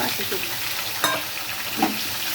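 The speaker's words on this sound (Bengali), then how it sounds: "এই তেলেই আমি কচুগুলো দিয়ে দিচ্ছি।" Pieces of taro hitting hot oil left from frying shrimp, giving a steady close sizzle and crackle with light stirring scrapes and a couple of brief louder spits.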